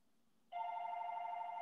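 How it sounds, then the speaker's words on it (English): A phone suddenly starts ringing with a steady electronic tone that holds on at moderate loudness after a short quiet stretch, with no voices. "When your phone rings, you just mute."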